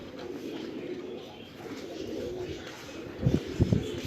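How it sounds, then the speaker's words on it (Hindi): Rooftop pigeons coo softly against a steady low background hum, with a few louder throaty coos clustered near the end, close and fairly quiet, no speech. "कबूतर हमारे इधर बहुत अच्छा परफॉर्म करते हैं"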